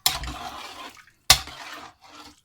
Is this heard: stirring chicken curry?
yes